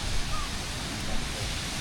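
A waterfall beside a Thai campsite and cafe gives a steady, even rush of falling water, a constant broadband roar with no breaks over about two seconds.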